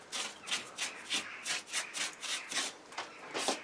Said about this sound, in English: I'm going to wire brush too and just give it a quick scrub and then a wash.